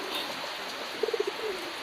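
Female Titis pigeon cooing nearby, a quick run of four or five soft, low coos followed by a drawn-out trailing coo over a steady background hiss.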